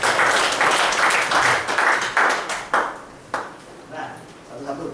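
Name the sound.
audience applause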